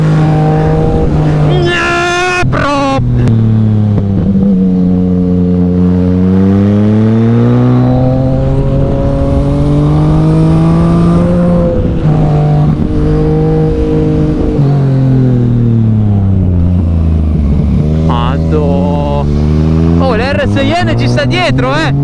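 A Yamaha MT-09 motorcycle engine revs and accelerates loudly, its pitch climbing and falling through gear changes, with a rider's excited voice speaking over it.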